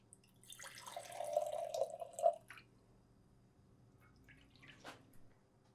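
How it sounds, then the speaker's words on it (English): A brief stream of a third of a cup of water runs into a pan with vinegar for about two seconds, then stops, followed by a small clink and quiet. "We're gonna put 1/3 cup of water."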